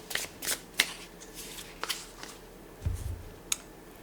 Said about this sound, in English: I will draw a guardian angel oracle card to see what other messages want to come through from your ancestors